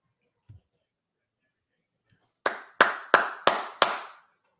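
Five sharp, evenly spaced hand claps ring out close and loud on their own, after a faint earlier tap, in celebration of a football extra point during a Buffalo Bills versus Washington Commanders game broadcast.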